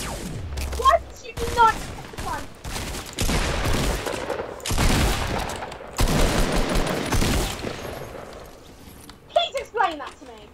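Bursts of Fortnite gunfire crack out in short, sharp volleys during a squad match, mixed with footsteps and overlapping voices of players talking.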